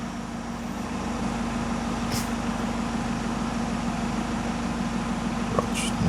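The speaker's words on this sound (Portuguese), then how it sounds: "Mandamos pôr o motor em funcionamento" A warmed-up BMW 520d E60 diesel with a loss-of-power fault idles in a steady, even drone heard up close, with no voices over it.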